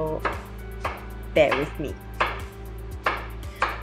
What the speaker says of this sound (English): you want to coarsely dice 2 cucumbers in preparation